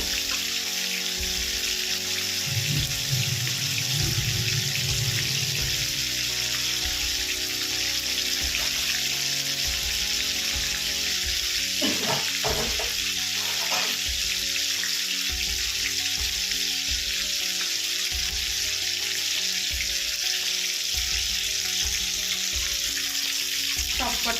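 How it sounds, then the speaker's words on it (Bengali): Rupchanda pomfret fish frying in hot oil, giving a steady close-up sizzle that runs unbroken for over twenty seconds, with a few brief clinks and shifts partway through and no talk. "ভালো করে লাল করে ভেজে নেবো"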